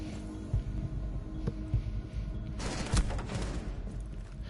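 Gunfire in a tactical shooter video game, a few sharp shots and a burst of rapid fire against a constant low background rumble, heard without commentary.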